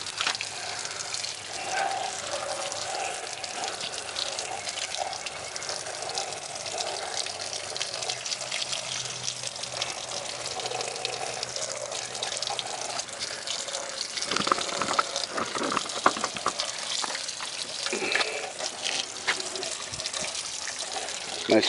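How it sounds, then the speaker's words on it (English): A garden water hose spraying down golf cart batteries, a steady broadband hiss of water on hard surfaces that runs continuously, growing slightly louder and more splashy toward the end, with no talking. "And then take the water hose."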